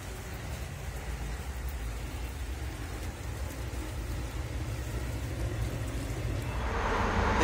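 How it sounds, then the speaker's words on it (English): Steady rain falls outside near a house downspout, a dense continuous hiss with low rumbling that swells louder toward the end, with no talking. "we've had a little more rain"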